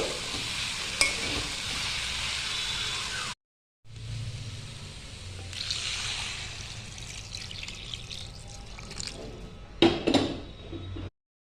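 Potatoes and papaya being stirred in a pan for a mung dal papaya curry, a steady sizzle with scraping stir strokes and a brief pause near the middle, then a louder clatter toward the end; no talking.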